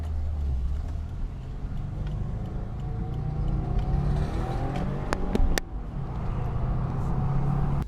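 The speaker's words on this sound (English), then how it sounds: "The 2015 WRX stock exhaust." A 2015 Subaru WRX with its stock exhaust produces a steady, close, low rumble that swells slightly as it revs, with no talking over it.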